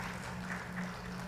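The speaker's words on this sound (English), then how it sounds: "A great round of applause" Steady applause from an audience at the India Steel 2025 conference hall, a soft continuous patter of many hands clapping at a distance with no break.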